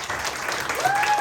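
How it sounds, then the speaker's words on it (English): Audience applause at a Welsh televised talent search show, a dense wash of clapping from a crowd filling the whole stretch at steady loudness, with a faint whistle-like tone rising near the end. "I want to have a round of applause for these"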